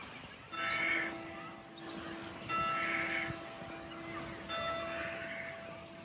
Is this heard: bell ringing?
yes